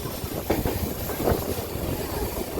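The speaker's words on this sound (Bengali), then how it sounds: "আমাদের ট্রেনটি ঢুকেছে নাগরাকাটা সিনিক রেল কার্ভে" A train rounds the Nagrakata scenic rail curve on the Dooars route past tea gardens and fields, a continuous rumbling roll of wheels with faint clacks, heard from on board.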